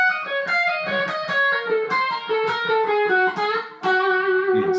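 Distorted electric guitar playing a quick lick built on a pull-off pattern with passing tones, a run of rapid, sustained notes that shift in pitch, loud and alone.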